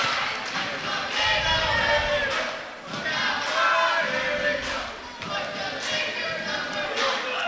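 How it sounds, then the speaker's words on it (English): Cheerleaders chanting at a girls' varsity high school basketball game, rhythmic group voices echoing through the gym with crowd noise and occasional thuds underneath. "And here are cheerleaders cheering also."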